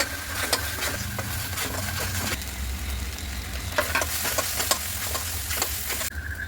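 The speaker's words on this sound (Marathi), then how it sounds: "कांद्याची पेस्ट टाकून घेते तेलामध्ये. खोबरं टाकून घेते थोडंसं." Onion paste and grated coconut frying in hot oil for a tiger prawn masala, steady sizzling with repeated scraping strokes of a spoon stirring the pan, close up and without voices.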